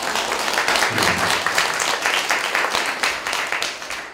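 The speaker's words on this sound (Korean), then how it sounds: "이렇게 박수 치고 있는 거지" Audience clapping in a lecture hall during a talk on classical music, a steady dense patter of many hands, loud and continuous throughout with no speech over it.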